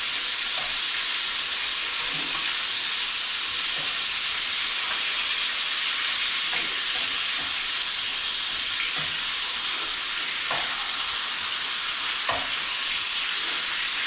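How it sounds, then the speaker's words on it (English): Quail searing in a hot pan, a steady bright sizzle and hiss of frying with occasional small pops and spatters, close and continuous with no talking. "Let them continue to sear in the pan for another couple minutes"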